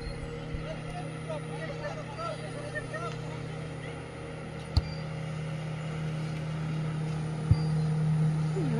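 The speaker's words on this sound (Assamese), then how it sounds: "এইয়া নাও আহি গ'ল।" A speed boat's engine drones steadily as it comes in across Umiam Lake at Barapani, Meghalaya, with nearby voices and crowd chatter running over the hum and a couple of brief knocks.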